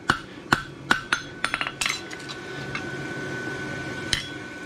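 A hammer rings sharply on a barshoe horseshoe as its points are scarfed down for welding, with a quick series of metallic strikes at the start, then quieter clinks and one more ringing blow near the end.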